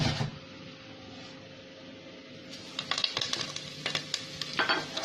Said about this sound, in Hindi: अब मैं इसमें डालूंगी सारा ये तड़का